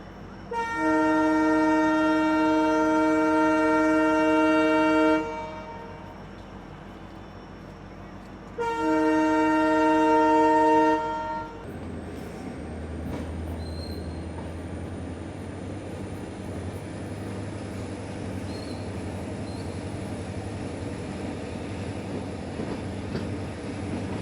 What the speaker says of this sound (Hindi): अभी जो है वो अराइवल हो रहा है समदड़ी जंक्शन रेलवे स्टेशन पे